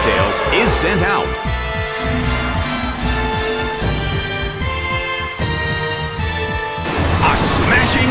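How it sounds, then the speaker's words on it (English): A Pokémon attack lands in the video game Pokémon Battle Revolution, with repeated crashing impacts and battle effects over loud game music lasting several seconds. "A smashing blow."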